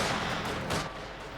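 StuG assault gun firing in Company of Heroes 2, a single loud, heavy cannon blast that fills the opening moment, then a rolling boom that decays into dense battle noise.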